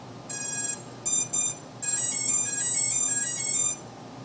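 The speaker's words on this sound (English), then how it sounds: "in the background you can hear the ESCs powering up and calibrating" Bright electronic beeping tones from a drone's ESCs powering up and calibrating sound in short bursts, then a longer run of rising and falling musical beeps plays over a quiet background hum.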